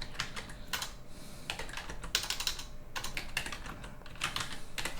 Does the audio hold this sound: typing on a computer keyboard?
yes